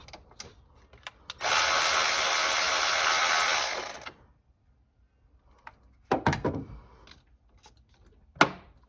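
Bolts being removed from the coil packs on an LS1 engine: a sustained whirring power-tool burst of about two and a half seconds, followed later by short metallic clicks and clatter, close by with no talk.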